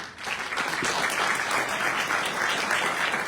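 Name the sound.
audience applause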